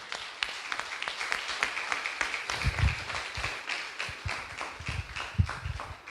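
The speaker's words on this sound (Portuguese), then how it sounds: "Vamos aplaudir o Senhor nessa noite?" A church congregation at a family conference claps for the Lord, scattered and uneven hand claps with irregular rhythm, moderately close, with some low thumps mixed in.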